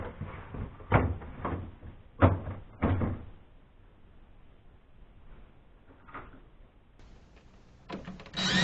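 A plastic bottom drawer is pushed back into a refrigerator, giving several close, hollow knocks and clacks with quiet pauses and a final scrape.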